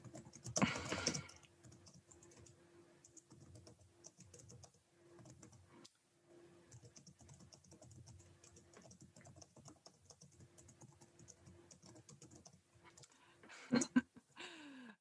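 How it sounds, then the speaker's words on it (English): Steady keyboard typing runs throughout, quick uneven keystrokes with brief pauses, close and moderately quiet, plus a couple of louder knocks near the end. "this is more me typing for my own amusement"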